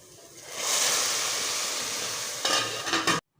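Hot oil sizzles loudly in a pan as cumin and spices are tempered for lentils, a steady crackling hiss that swells, then flares briefly before cutting off abruptly as a lid closes.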